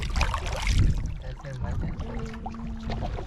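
A wooden boat being rowed through a Konkan coastal creek during a fishing trip: water sloshes and splashes against the hull in steady strokes, close by, with muffled voices in the background.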